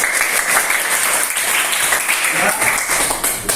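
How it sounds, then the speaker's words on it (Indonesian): Classroom applause from students after a chemistry presentation on molecular shapes, loud dense clapping that continues steadily throughout. "Tepuk tangan dulu untuk ya."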